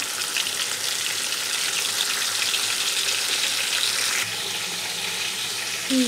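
Fish pieces fry in a pan of hot oil, giving a bright, continuous sizzle that stays close and fairly loud throughout, with a slight drop partway and no talking.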